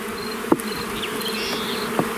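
Honeybees crowd hive frames during a spring hive expansion, making a dense, continuous close buzz with a few louder individual bees passing near.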